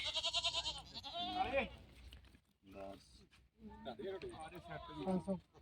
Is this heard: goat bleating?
yes